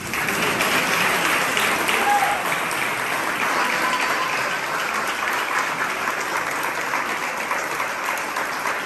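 Steady applause from wedding guests at a Spanish-language church ceremony right after the vows, a dense, even wash of many hands clapping for the whole stretch with no voices over it.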